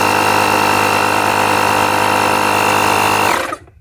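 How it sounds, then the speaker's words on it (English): A Lokithor JA300 portable air compressor inflates a tractor tire with a steady, close, buzzing motor whine that runs evenly for over three seconds, then cuts off abruptly. "Just hit pump key, turns on, you can hear it running"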